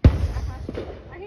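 A single loud Fourth of July firework bang goes off, followed by a fading, rumbling tail with a fainter secondary pop.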